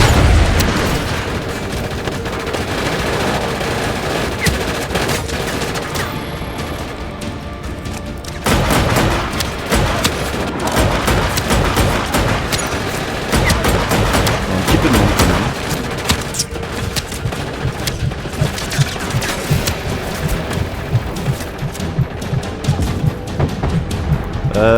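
Gunfire in Just Cause 3 rattles almost nonstop for about twenty-five seconds, dense machine-gun bursts mixed with heavier booms and blasts, loud and close with only brief lulls.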